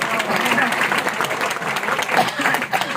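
A crowd at a Hindi comic poetry gathering claps steadily for a few seconds, with voices talking over the applause.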